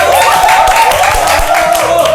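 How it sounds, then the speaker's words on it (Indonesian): An audience at a live event claps before a question-and-answer session, a loud, dense, continuous spatter of applause filling the room from start to end. "Semuanya tepuk tangan dulu."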